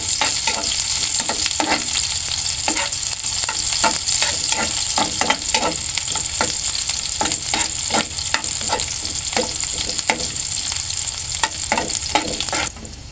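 Garlic and onion sautéing in a pan for chicken liver adobo, a steady loud sizzle with regular scraping stirs throughout, no voices.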